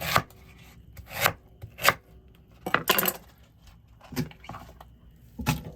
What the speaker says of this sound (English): This is how I cut my beets.